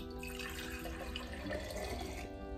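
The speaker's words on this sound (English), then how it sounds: "Now we wanna add 1 cup of white vinegar." White vinegar pours steadily into a jar, a close gurgling splash lasting a couple of seconds before easing off.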